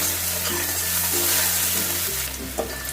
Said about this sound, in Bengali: পেঁয়াজটা দিয়ে আমি একটু ভেজে নেবো